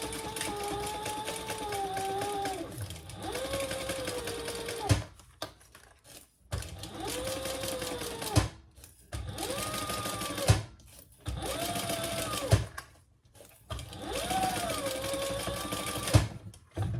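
A sewing machine bastes the bottom gusset of a crossbody sling bag in several close bursts of rapid mechanical stitching, each lasting a few seconds, with short pauses and clicks between runs.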